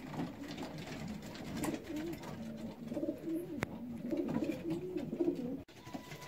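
Pigeons in a loft coo continuously in low, overlapping murmurs, close by and steady, with a sharp click partway through and a brief drop near the end.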